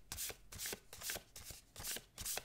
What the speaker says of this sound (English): So they are very nice to overhand shuffle as well.